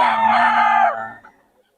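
A rooster at a gamefowl sale in Bocaue gives one full, loud crow up close, its held harmonic call falling away after about a second, with someone talking briefly around it.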